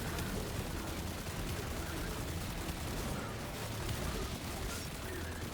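Gunfire rattles nonstop while enemies are shot down in the video game Destiny, a dense, loud barrage of rapid shots and impacts that never lets up across the whole stretch.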